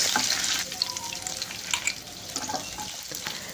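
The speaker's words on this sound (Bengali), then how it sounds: "পেঁয়াজগুলো দিয়ে আমি একটু নেড়ে চেড়ে নিচ্ছি।" Chopped onions sizzling in a pan as they are stirred, a steady close hiss of frying broken by short scraping and clattering strokes of the spoon, with no voices.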